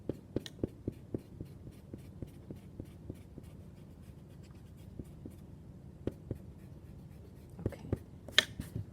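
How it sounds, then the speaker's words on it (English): Pencil lines are erased on paper while a manga face is drawn. A rhythmic, quiet back-and-forth rubbing scrub repeats through most of the clip, ending with a few sharper scratches and taps. "I'm just going to erase out this section of the circle"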